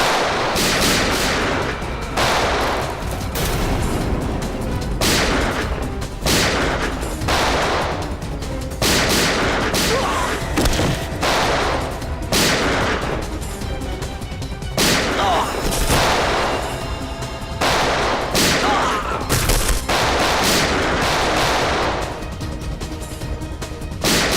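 A TV crime drama shootout with dense, continuous gunfire, loud bursts and rapid volleys of shots one after another, crashing and echoing without pause for the whole stretch.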